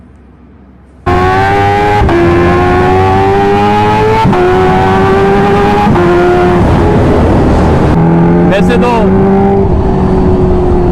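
Kawasaki H2R superbike engine revs hard on a highway ride, loud close rising and falling engine pitch through repeated gear changes, with someone talking briefly over the roar.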